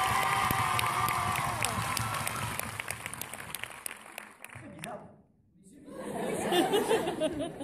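An audience at a film premiere claps and cheers in a rolling burst of applause, with chatter and voices mixed in; the noise drops briefly to near silence, then swells again with loud cheering.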